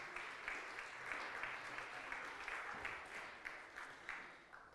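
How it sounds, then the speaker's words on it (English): Congregation at an Easter youth service giving a round of applause, sustained many-handed clapping at a moderate distance that tapers off toward the end. "Give him a round of applause."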